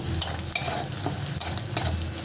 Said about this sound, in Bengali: পেঁয়াজটাকে আমি একটু লাল লাল করে ভেজে নেব দেখুন লাল লাল করে প্রায় ভাজা হয়ে এসছে